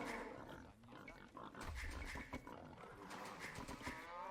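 A wild boar in a strategy video game gives low, rough grunts, faint and set against a soft game background.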